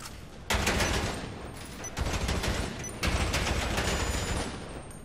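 Heavy gunfire in the video game GTA Online, a dense continuous barrage of rapid shots in several sustained bursts, loud and close with no talk over it.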